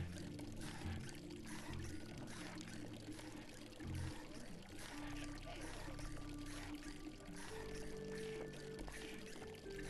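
Water pours steadily in the survival video game Wasteland Life, a continuous splashing stream under background game music and tones, with speech-like sound in places.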